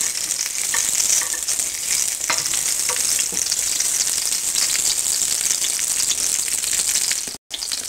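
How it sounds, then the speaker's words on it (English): Slices of puffball mushroom fry in a pan, giving a steady, close, busy sizzle that carries on without a break except for a momentary dropout near the end. "So we'll start laying them in here. Do just two or three at a time. Fry them just a little bit."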